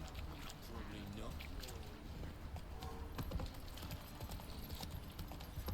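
Roach, a horse in The Witcher 3: Wild Hunt, clip-clops along at a steady trot under continuous ambient game noise, with someone speaking over the hoofbeats.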